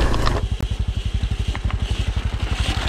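A Husqvarna EE5 electric dirt bike climbing hard uphill through deep woods in mode 3, a close, loud rhythmic drone that pulses rapidly and evenly, with a sharp knock early on.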